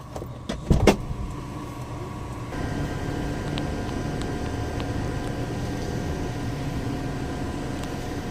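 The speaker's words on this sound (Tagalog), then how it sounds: "So balik lang muna natin yon, tapos road test natin mga boss." A Toyota Wigo hatchback on a road test after a check-engine-light repair gives a steady, moderately loud cabin drone of engine and road noise, with a few brief clicks and thumps near the start and no talking.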